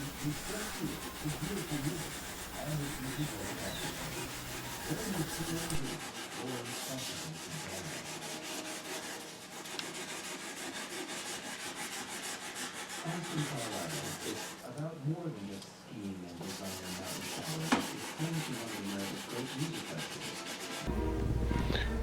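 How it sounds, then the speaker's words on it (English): Wet sanding a mahogany chest finish with 400-grit wet-or-dry sandpaper lubricated with mineral spirits, a steady close rubbing and scrubbing in rhythmic back-and-forth strokes throughout. "The wet sanding is with 400 wet or dry sandpaper, and the solvent that I'm using is mineral spirits as a lubricant."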